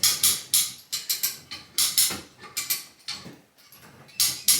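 Rhythmic ratcheting clicks from a come-along tightening a cable to move a large LG clothes washer onto a drain pan, bursts in quick repeated strokes with a short pause midway, close and fairly loud.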